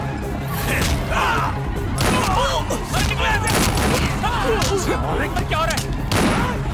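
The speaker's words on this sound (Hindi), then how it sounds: "यहाँ पार्टी में तो गोलीबारी हो रही है।" Gunfire erupting at a New Year party in a movie scene, dense loud repeated shots and crashing impacts mixed with shouting voices and crowd commotion throughout.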